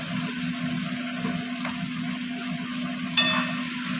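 Potatoes frying in a pan alongside fish and tomato give a steady, even sizzle throughout, with one sharp clatter of utensil or pan near the end; no voices.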